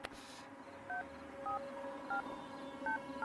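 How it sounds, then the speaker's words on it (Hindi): A telephone number is dialed on a keypad in a Hindi-dubbed South Indian action film, giving about seven short DTMF tone beeps at a steady, uneven pace over a quiet room background, with no one talking. "यार तू फोन लगाएगा ठीक है प्लीज?"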